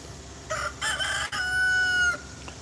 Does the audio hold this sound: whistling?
no